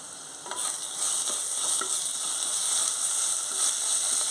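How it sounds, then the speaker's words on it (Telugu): Onions with ginger garlic paste frying in a pan, a steady close sizzle with occasional light stirring scrapes, no talking. "ఆనియన్స్ వేగిపోయి ఇందులో అల్లం వెల్లుల్లి పేస్టు స్పూన్ వేసుకోవాలి"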